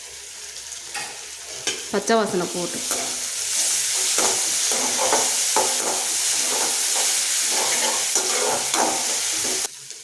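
Onions and a spoonful of ginger garlic paste fry and get stirred in hot oil, a continuous loud sizzle punctuated by scraping stir strokes, with a brief voice speaking over it.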